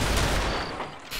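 Shotgun blasts in the horror shooter They Hunger, heavy and close, with a dense booming roar that fades and then swells again with a second shot near the end.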